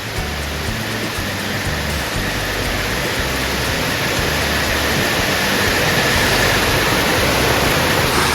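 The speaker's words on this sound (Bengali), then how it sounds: "মুষালধারে বৃষ্টি, মুষালধারে।" Torrential downpour at late afternoon in a flooding neighbourhood, a dense, steady roar of heavy rain that stays loud and unbroken throughout, growing slightly stronger toward the end.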